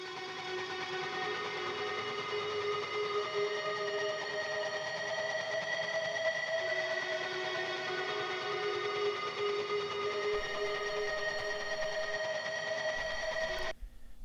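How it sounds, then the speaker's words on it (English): A sustained, shimmering ambient electric guitar pad through the Toneforge Misha Mansoor lead channel rings steadily with long held notes, washing evenly throughout before cutting off abruptly near the end. "I've layered an ambient sound guitar, which sounds like this."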